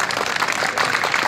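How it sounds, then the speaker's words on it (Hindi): Young people in the audience at a police anti-drug campaign event clap loudly, a steady, dense patter of many hands that stays even throughout the short burst. "मैं चाहूंगा सबसे पहले अपने लिए आप जोरदार तालियां बजाएं"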